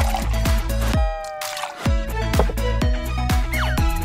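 A small splash of milk poured into a bath of tapioca pearls makes a quick series of wet drips and gurgling trickles in a steady rhythm, close and fairly clear.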